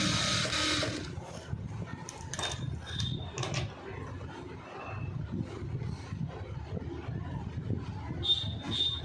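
A sewing machine stitches round the neck of a koti short jacket, a steady close mechanical whirring and rattling that runs throughout with small pauses and faint high squeaks.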